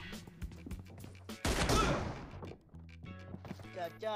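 M24 sniper rifle gunfire rings out in a PUBG Mobile team deathmatch. A sharp crack is followed by a loud, rolling burst of shots lasting about a second, and someone talks before and after it.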